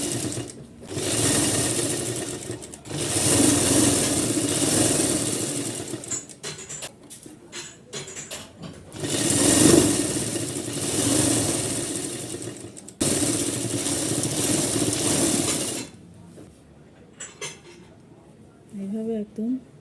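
A sewing machine stitches a lungi in several loud bursts of rapid mechanical rattling, separated by brief pauses. A person talks over and between the runs.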